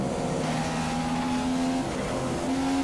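A McLaren Honda Formula 1 car engine in the F1 2015 racing game screams at high revs with a steady, loud whine that dips briefly and climbs again, with no voices over it.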